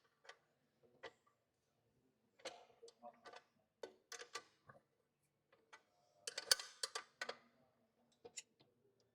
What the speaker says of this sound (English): Take the wrench size 13 and fully tight these 2 bolts.